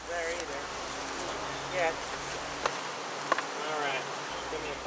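Honeybees from a relocated feral hive buzz around the old hive site, a dense, droning hum with individual bees whirring past up close, over a steady outdoor background.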